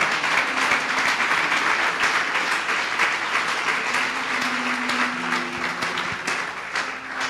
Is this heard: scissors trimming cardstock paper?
no